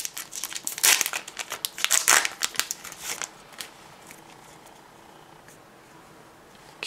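Tape crinkling and tearing loose from a Pokemon TCG Tag All Stars booster pack, a cluster of sharp, close rips and crackles over the first three seconds, then fading to quiet handling noise.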